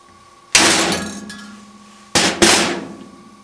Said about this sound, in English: Take your hammer, don't hit real hard now, you can break your tool